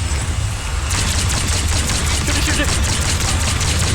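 Rapid automatic gunfire from a Black Ops 6 Zombies boss fight, a loud continuous stream of shots that kicks in after the first second and runs steadily to the end, with brief speech over it.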